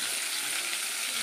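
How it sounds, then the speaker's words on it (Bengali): Tilapia fish pieces frying in hot oil, a dense, even sizzle that hisses steadily and close throughout the short moment with no voices. "এই মাছ ভাজা হয়ে গেছে।"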